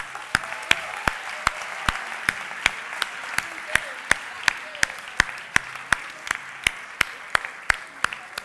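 A studio audience on a Spanish television show claps steadily in a sustained round of applause, sharp individual claps standing out over the dense patter.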